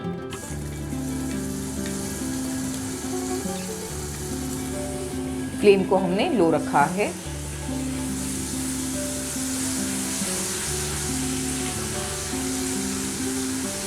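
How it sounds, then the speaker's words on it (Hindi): Ginger-garlic paste and cumin seeds fry in hot oil over a low flame, with a steady sizzle running underneath. A brief burst of stirring or scraping comes partway through, and a person talks over it. "आधी मिनट तक हम अदरक लहसुन को भून लेंगे ताकि इसका कच्चापन चला जाए"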